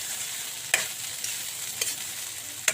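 Bamboo shoots (labong) stirred in a hot cooking pan, a steady sizzle of frying throughout with several sharp scrapes of the utensil against the pan at irregular intervals, no talking.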